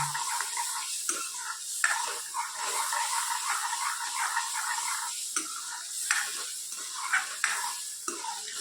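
Masala for sev usal roasts in a pan and is stirred, a soft continuous sizzle broken by light scraping strokes of the spoon at a steady pace, close and fairly quiet, with no talking.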